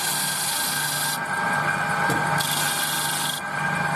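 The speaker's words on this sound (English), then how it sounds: "just sand that up slightly on there" A soft wooden piece is sanded by hand in long rasping strokes, two extended scratchy passes standing out clearly over a steady low workshop hum.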